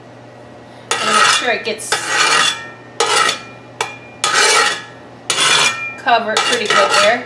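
Olive oil being spread around a pan before sautéing turkey burger patties, heard as bursts of loud metallic scraping and clattering of pan and utensil in several separated strokes, with a person talking over it.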